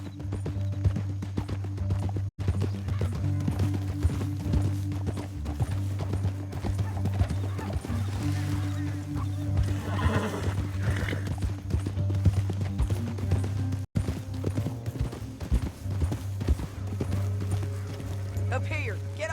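Horse hooves galloping in the video game Red Dead Redemption 2, a steady rapid clip-clop with an occasional whinny, running continuously beneath a low steady hum and bursts of talk.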